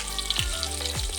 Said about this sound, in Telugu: జీడిపప్పును కూడా యాడ్ చేసి మీడియం ఫ్లేమ్లో వేయించుకోండి